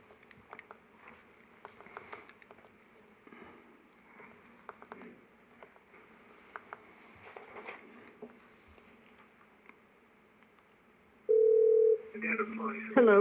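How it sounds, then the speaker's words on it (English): A steady telephone dial tone sounds briefly at the end, followed by dialing beeps while a call is placed from a meeting room, after faint background shuffling and murmurs. "why don't we get her on the phone, because I know she's available to answer questions, Marina"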